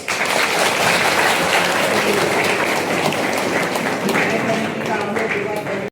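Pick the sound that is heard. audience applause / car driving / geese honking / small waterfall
audience applause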